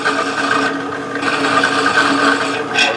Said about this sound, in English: I'm just bringing the drill, I'm just bringing it down and touching the file here.